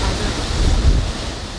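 Sea waves surge against a crumbling shoreline, a close, steady wash of water with wind rumble and no talking.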